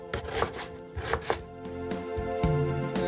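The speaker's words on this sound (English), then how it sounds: "Chop the onions." A knife chops onions on a cutting board in a Goan kitchen, with quick, uneven strikes close up, some sharp knocks standing out, and a steady background hiss.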